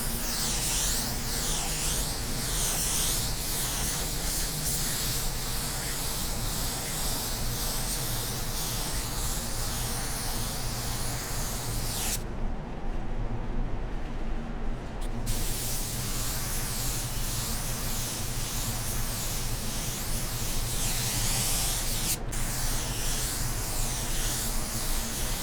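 Spray gun laying a wet coat of Sikkens Auto Base car paint at 20 PSI onto a car panel, a steady close airy hiss running nearly continuously, broken by one pause of a few seconds.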